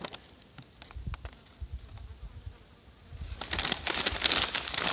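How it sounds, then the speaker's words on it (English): Honeybees buzz around the top of a hive box while dry sugar is fed, a steady close hum that swells louder and brighter toward the end, with light crinkling handling sounds. "I got bees coming out the top"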